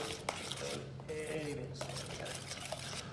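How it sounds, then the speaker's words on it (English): A spoon stirring overnight oats around a bowl, with soft, wet scraping and occasional light clinks. A person talks over the stirring throughout. "Give that a real good stir around."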